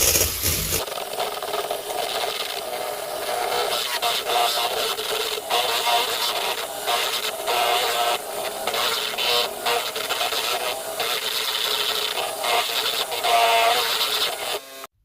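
Egg whites being whisked continuously with an electric mixer while hot syrup is poured in a thin stream for sugar-free marshmallows, a steady close rattling whir with no talk.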